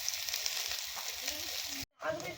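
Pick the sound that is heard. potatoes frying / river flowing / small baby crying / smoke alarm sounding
potatoes frying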